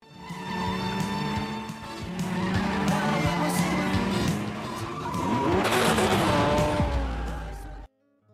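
A car in a gangster chase scene speeds off with a sustained engine roar and screeching tires, loud and continuous over a dramatic film soundtrack, then cuts off abruptly.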